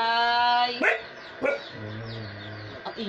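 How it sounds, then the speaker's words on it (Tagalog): A dog at home barks a few times, sharp yips spaced apart and close by, mixed in with people talking over and between the barks. "Ang ingay naman niya itong aso na to."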